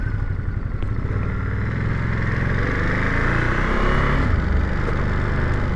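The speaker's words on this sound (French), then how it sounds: "Et toujours ce bruit d'embrayage là que j'aime pas trop, assez présent, plus un bruit de moteur" A 2021 Ducati Monster motorcycle rides through town with a steady, droning engine note and a constant mechanical clutch rattle underneath, close and continuous throughout.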